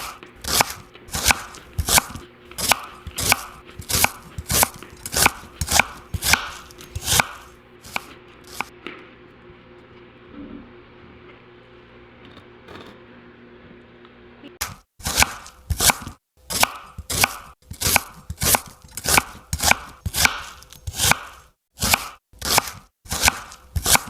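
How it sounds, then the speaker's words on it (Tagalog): Eggplant chopped into small pieces with a knife on a board: loud, close, brisk rhythmic chops in steady runs, broken by a quieter stretch of faint background hum before the chopping resumes. "kaya hiniwa ko na ito ng maliliit"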